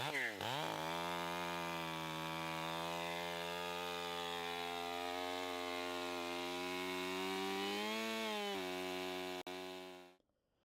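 A chainsaw cuts through a tree stump in a steady, loud, high-revving drone held for about ten seconds before the engine quickly winds down and stops.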